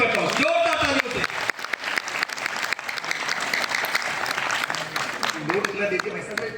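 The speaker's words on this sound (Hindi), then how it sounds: "जोरदार तालियों से स्वागत करता हूँ।" A gathered audience breaks into loud, sustained applause, a dense wash of many hands clapping steadily from start to finish, with a voice briefly over it at the start.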